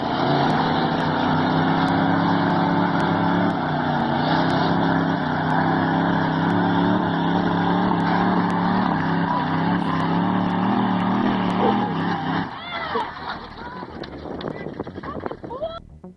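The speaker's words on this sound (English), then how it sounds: "it would be a good idea to do a tug of war with their homemade monster trucks?" Homemade monster trucks locked in a tug of war give off a loud, steady engine drone that holds for about twelve seconds, then breaks into rougher, uneven revving and clatter.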